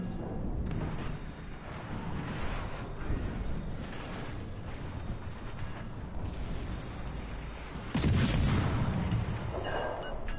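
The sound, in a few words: torpedo hits and gunfire in World of Warships Legends video game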